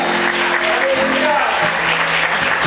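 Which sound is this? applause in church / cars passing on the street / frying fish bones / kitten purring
applause in church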